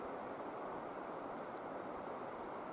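Steady rain falling through a forest canopy, a dense even hiss of drops on leaves with no distinct splashes, continuous and moderately close, without talk.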